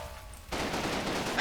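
A heavy machine gun in a video game fires in a brief, dense burst of rapid shots that starts abruptly and runs to the end without pause.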